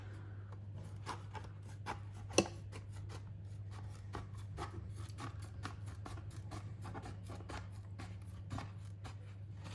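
Rapid, even snips of scissors trimming an inner fender for a Traxxas Maxx Slash, quiet and close, with one sharper click partway through over a low steady hum.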